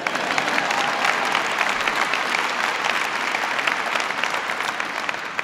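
Loud, sustained applause from a large audience at a presidential bill-signing ceremony, honoring Senator Mark Udall, a thick, even roar of clapping that never lets up.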